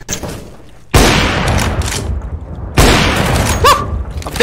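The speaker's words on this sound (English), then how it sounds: "Throwing flashbang." A flashbang grenade bursts in a first-person shooter game, two sharp loud blasts about two seconds apart, each followed by a ringing, crackling decay.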